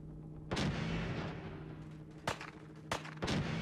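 Four loud, sharp gunshots from the video game Fallout 4 ring out at uneven intervals over a steady low hum, each with a short echoing tail.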